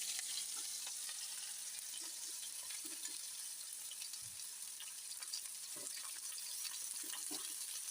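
Green chillies sauté in hot oil with mustard seeds, giving a soft, continuous crackling sizzle with faint scattered pops and light stirring. The sound is quiet and steady throughout.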